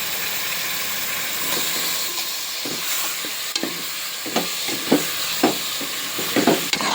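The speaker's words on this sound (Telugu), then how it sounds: "మటన్ వేసుకొని కలుపుకుందాం ఫ్రెండ్స్" Mutton is stirred and fried in a pan, giving a continuous close sizzle and hiss broken by scraping strokes that grow more frequent and louder toward the end.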